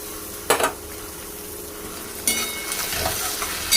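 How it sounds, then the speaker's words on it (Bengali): Tomatoes and browned chopped onion fry in a pan with black cumin and dried chili, a continuous near sizzle with a few sharp stirring scrapes against the pan, no talking. "টমাটমটাকেও নরম করে ভেজে নেব"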